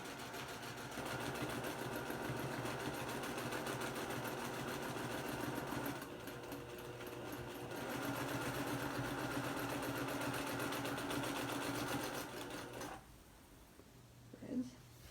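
A sewing machine stitches raw-edge appliqué on a Thanksgiving placemat, running with a fast steady mechanical whir for about twelve seconds, easing briefly around six seconds, then stopping; a voice speaks faintly at the end.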